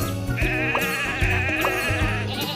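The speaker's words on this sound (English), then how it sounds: "Sheep have wandered onto the tracks." A cartoon sheep bleats loudly and repeatedly over a busy, bright musical backing in a children's train cartoon, the wavering animal calls sitting close and prominent.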